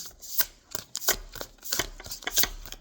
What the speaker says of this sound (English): let me try to shuffle, okay?